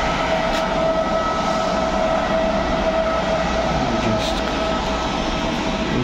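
A delayed train pulls into Łowicz Główny station with a steady, loud rumble of wheels on rail and a faint clatter, heard up close and continuously with no talk.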